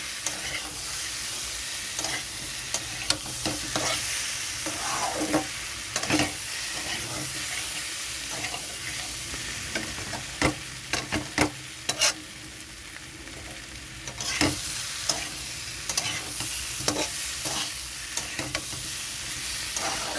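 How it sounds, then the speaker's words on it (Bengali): Hot water is poured into sizzling masala in a pan for a taro and katla fish curry, setting off a loud, steady hiss and sizzle with repeated sharp scrapes and clinks of a spatula stirring, close and continuous, with no talking. "এখানে আমি একটু গরম জল দিয়ে দেব"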